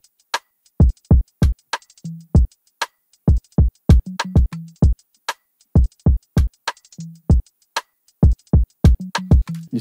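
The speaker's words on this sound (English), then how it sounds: "you can add in a hi-hat, you know, a hi-hat loop or something" Afroswing beat with a hi-hat loop: crisp percussive hits in a quick syncopated pattern, broken by short low pitched notes, loud and clean with no other sound.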